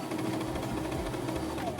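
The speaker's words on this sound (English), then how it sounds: "We are going to sew the whole sleeve on." A sewing machine stitching a sleeve onto a shirt gives a steady, close mechanical drone with a faint rhythmic chatter that runs continuously throughout.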